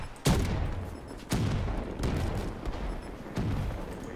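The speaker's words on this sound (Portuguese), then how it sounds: "Ó, agora, aquele hip fire aqui, ó. Ó, ó o tiro que vai matar geral lá" Gunfire in a first-person shooter video game, with several sharp hip-fire shots spaced about a second apart, loud and punchy over a low background rumble.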